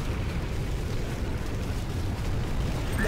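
A Nod Tiberium refinery is destroyed in the video game Renegade, giving a sustained, loud, rumbling explosion roar that fills the whole stretch without a break, with no talk over it.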